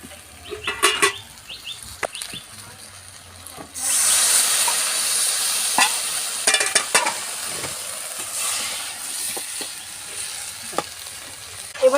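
Jujube pickle with jaggery and a little water being stirred in a pan, with scraping spoon strokes and a steady sizzling hiss that rises sharply partway through and continues to the end.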